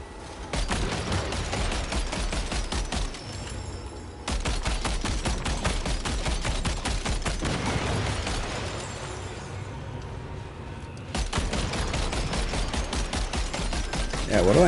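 Automatic gunfire in Death Stranding aimed at BTs, long bursts of fast repeated shots that cut out briefly a couple of times and resume, steady and moderately loud throughout.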